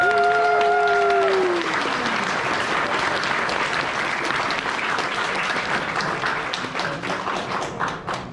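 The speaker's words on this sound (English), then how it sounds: "So give them a round of applause." Audience at the Trotcon 2023 convention opening ceremony applauds the staff, a broad wash of clapping that swells, holds steadily, then thins out toward the end, with a brief musical tone fading at the start.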